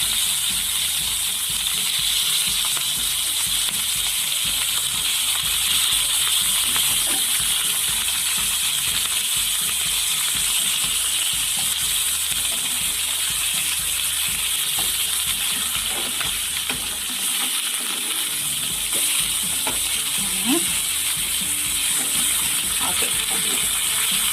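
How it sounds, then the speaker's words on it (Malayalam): Fish coated in a special masala frying in a pan over a medium flame, giving a steady, dense broadband sizzle throughout with no pauses, close and fairly loud. "അപ്പോൾ ഒരു 5 മിനിറ്റ് നിങ്ങൾ മീഡിയം ഫ്ലെയിമിൽ വെച്ചാൽ മതിയാകും. മീൻ നന്നായിട്ട് തന്നെ മൂത്ത് കിട്ടും."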